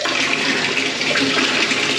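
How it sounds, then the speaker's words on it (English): Water gushes steadily from a tap into a bathtub in a house where the water supply has just been turned back on, a loud close rushing with no pauses. "Right, so we're filling that up."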